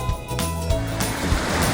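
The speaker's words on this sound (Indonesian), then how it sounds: "Air terjun tirai bidadari yang ada di Desa Jangga." Tirai Bidadari waterfall at Desa Jangga, Subang, with a steady broadband rush of falling water, loud and continuous across the whole stretch, with some low rumbling undertone and no talk.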